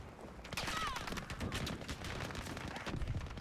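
Dense bursts of rapid gunfire in Battlefield 5 crackle continuously, overlapping shots near and far forming a loud, chaotic barrage with no pauses.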